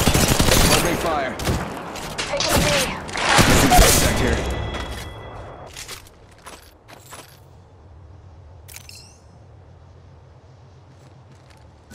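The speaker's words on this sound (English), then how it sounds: "Opening fire." Rapid bursts of automatic gunfire from the mobile shooter game Apex Legends Mobile crackle loudly in dense volleys, then give way to sparse single shots, clicks and faint background noise.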